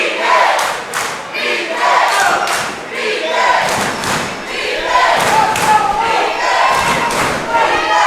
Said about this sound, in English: The crowd soundly behind Bryan Keith.